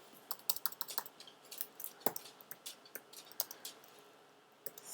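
Rapid keystrokes on a computer keyboard, a dense run of sharp close clicks with a few louder taps and a brief pause near the end, with no talking.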